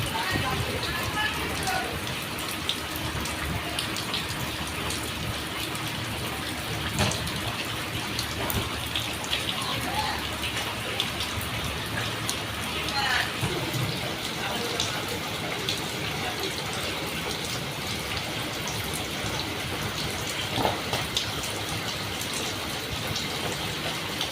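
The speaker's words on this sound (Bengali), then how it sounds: "বৃষ্টি নামতেছে" Rain falls across a village in a continuous dense hiss for over twenty seconds, with occasional louder drips and splashes and a speaking voice mixed in at times.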